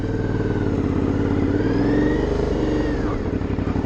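An Aprilia Shiver 900 roadster's engine revs up close and loud, a steady throaty drone that rises and holds in pitch before easing slightly, with no talking.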